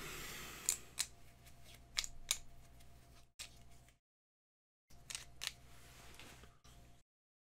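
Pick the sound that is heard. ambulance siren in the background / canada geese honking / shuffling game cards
shuffling game cards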